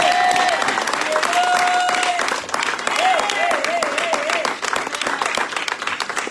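A church congregation applauding and cheering for the Lord during a sermon, dense sustained clapping mixed with voices and a held musical tone, fading slightly midway before swelling again.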